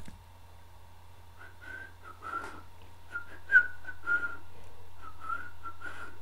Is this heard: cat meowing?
no